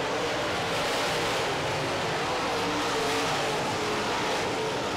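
Late model race cars roar around the track at a feature race, with a dense, continuous engine drone and no breaks.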